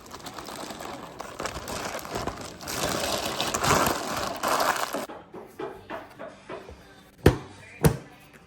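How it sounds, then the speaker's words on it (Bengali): Dry grains of rice pour and rattle into a storage container in a steady rush for about five seconds, followed by a few scattered taps and two sharp knocks. "তো এই যে এখন আমি এটার মধ্যে রাইস রেখে দিচ্ছি।"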